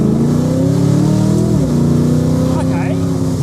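Loud project car engine revving hard under acceleration, a droning rising roar close by that stays heavy throughout, with a voice speaking over it.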